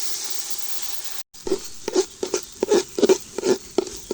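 Washed rice frying in oil with chopped onion in a home kitchen pot, sounding as a soft continuous crackle broken by repeated scraping stirs and light pattering hits, close by with no talk.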